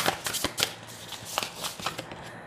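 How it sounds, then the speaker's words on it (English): Tarot cards being shuffled by hand during a Libra reading, a fairly close run of soft riffling and slapping bursts, irregular and continuous with no talking. "Future for Libra, universe, please bring us like one or two cards"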